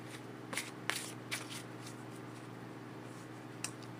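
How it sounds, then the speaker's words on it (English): Tarot cards being shuffled close by in a quiet room, a few soft riffling bursts and slides over a low steady hum, with no talking. "Okay, so I want to pull a card for the Queen of"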